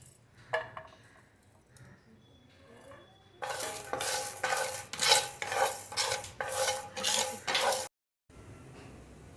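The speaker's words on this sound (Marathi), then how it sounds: "सांबारासाठी जे आपण साहित्य घेतलेलं आहे ते आपण भाजून घेणार आहोत" Sambar spices stirred dry in a hot pan, the first seconds quiet with a few scattered taps, then a run of loud rhythmic scraping and rattling strokes close by, a short silence, and a faint tail.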